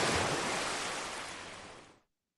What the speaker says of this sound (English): That wasn't the mic. That was waves.